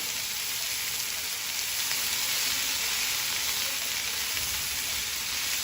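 Okra for a dry spiced vegetable dish sizzles in a flat pan over a gas flame on full heat, giving a steady, even hiss that stays close and constant throughout, with no voices.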